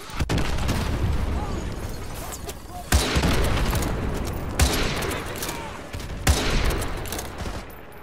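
Gunfire in the Call of Duty Modern Warfare 2 campaign, with three heavy, sharp rifle shots standing out above continuous loud battle noise of automatic fire and explosions, close and dense, with some game voices mixed in.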